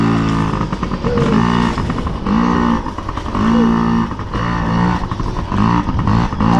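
A Yamaha PW50 mini motorcycle climbs a hill, its small engine buzzing loudly and close, revving up and down in repeated surges with no talk over it.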